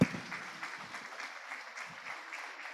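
Faint applause from an audience at a procurement summit, following a speech, a soft continuous patter heard from a distance.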